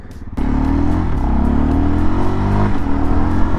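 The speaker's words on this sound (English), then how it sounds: "This little single overhead cam engine, not super duper rev happy, but also not the biggest slouch in the world" A Kawasaki KLX230 single overhead cam motorcycle engine kicks into a steady rev close by, its pitch climbing gradually and then holding and rising again, loud and continuous without talk.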